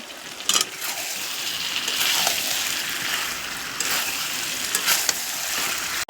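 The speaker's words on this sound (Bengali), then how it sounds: "এবার আমি আলুটাকে দিয়ে দেব দিয়ে ভালোভাবে নাড়িয়ে নেব" Chicken and potatoes sizzle and fry in oil in a pan while being stirred, with steady loud crackling and a few scraping clatters of the utensil against the pan.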